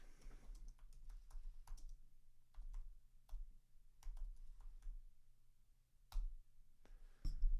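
Typing on a computer keyboard, with scattered key clicks in uneven bursts and a few louder strikes near the end, fairly quiet and close with no talk.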